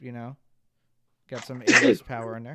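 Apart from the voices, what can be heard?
sneeze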